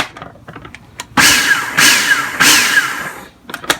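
A food processor pulsing flour, baking powder, baking soda, salt and sugar, with three loud, close bursts of motor whirring, each rising in pitch, between softer clicks and bumps.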